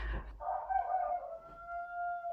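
A rooster crows in a farmyard with hens, chicks and a dog nearby, one long drawn-out crow heard clearly and close, with quiet surroundings and no talk.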